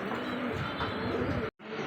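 Pigeons at a pigeon farm, many birds cooing and chirping in a dense continuous background chorus, fairly quiet, broken by a brief gap near the end.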